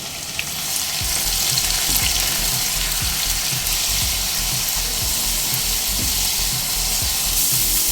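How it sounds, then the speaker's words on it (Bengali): Onion paste fries in a pan over a constant loud hiss, joined by a rhythmic series of soft scraping strokes as it is stirred, close and continuous with no talking. "পেঁয়াজের কাঁচা গন্ধটা চলে যাওয়া পর্যন্ত নেড়ে ছেড়ে ভেজে নিয়েছি"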